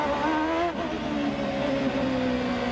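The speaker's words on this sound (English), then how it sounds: "You can hear him working that Honda engine in the low RPM band in second gear." A Honda-engined IndyCar race car at the 1999 Long Beach street race holds a loud, steady engine note in second gear at low revs, a continuous close drone with a brief dip partway through.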